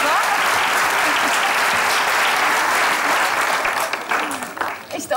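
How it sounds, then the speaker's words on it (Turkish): Audience applause in a children's comedy show studio, a loud continuous burst that tapers off over the final second. "Bir moral alkışı alalım lütfen oyuncumuza."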